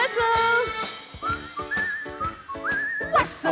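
A person whistles a bright, warbling melody imitating a canary, with quick rising and falling notes over a bouncy backing rhythm in a children's song about a canary.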